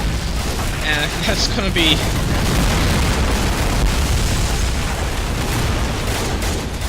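Gunfire and explosions from the war strategy game Men of War Assault Squad 2, a dense continuous rumble of booms and shots running throughout, with someone talking over the start.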